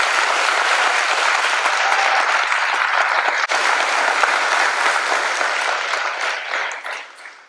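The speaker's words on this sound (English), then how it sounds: "I would like it if we could all give my exceptional student teacher, Mr. Souders, a round of applause" Audience applause for a student teacher at an 8th grade promotion ceremony at Urbana Junior High in Ohio: sustained, dense clapping from a large crowd that holds steady and then tapers off at the end.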